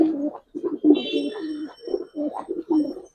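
Giribaz pigeons coo in a run of soft, repeated low phrases with brief pauses, close by, with a faint higher chirp partway through.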